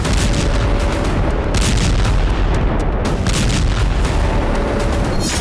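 Explosions from an attack on Sevastopol form a loud, continuous roar of blasts and rumbling booms with dense, overlapping impacts and no quiet gaps.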